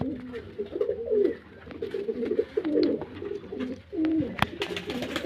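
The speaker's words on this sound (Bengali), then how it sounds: "আমার যে পাখিগুলো আছে এই যে পায়রাগুলো" Domestic pigeons coo in soft, throaty rolling phrases, close by and repeated several times with brief pauses, over a low background hum.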